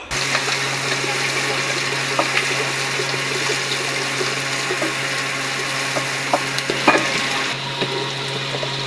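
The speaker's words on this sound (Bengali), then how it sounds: "প্রথমে তো পেঁয়াজ মরিচ ভাজা হচ্ছে" Onions and chillies fry in a pan for biryani, a continuous close sizzle with occasional stirring scrapes and small spits, steady throughout with no voices.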